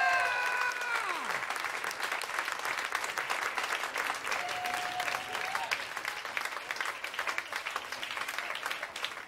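An audience breaks into applause for a performer's introduction, with a dense run of clapping that starts loud, includes a few whistles near the start, and keeps going steadily to the end.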